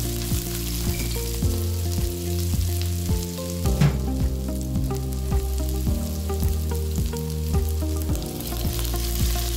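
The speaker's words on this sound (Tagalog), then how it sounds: "Mag-isa ng bawang sa isang kutsarang cooking oil." Garlic sautés in a spoonful of cooking oil in a pan, with a steady, close crackling sizzle that runs throughout. A low musical tone sits underneath, and no one speaks.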